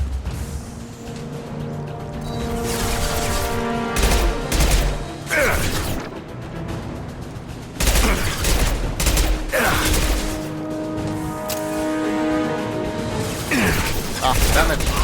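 Gunfire in the video game Mass Effect 2, loud bursts of shooting and impacts in repeated volleys over a dense, busy game soundscape with music-like tones.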